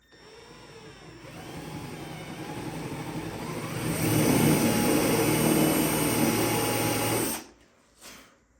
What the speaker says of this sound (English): And drill in.